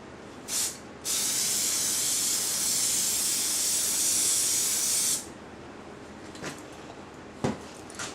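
Gasket spray hisses steadily from an aerosol can onto acrylic for a turbine build, a short burst first and then a long continuous spray of about four seconds, close and loud, followed by a few faint clicks.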